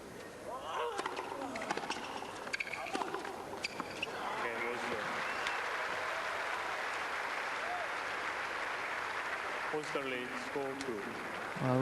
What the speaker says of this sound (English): rich applause from this crowd